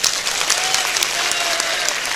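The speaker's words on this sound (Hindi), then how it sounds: "एक बार ताली बजाओ इनके लिए।" Audience applauding during a Hindi Sundarkand recitation gathering, a dense continuous clapping that stays loud and steady throughout, with no voices standing out.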